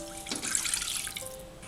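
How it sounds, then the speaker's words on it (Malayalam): Water poured from a tap into the same pan used for roasting semolina, a steady broadband splash and rush lasting under two seconds, close and moderately loud with no talking. "അതിലേക്ക് നമുക്ക് വെള്ളം ഒഴിച്ചു കൊടുക്കാം."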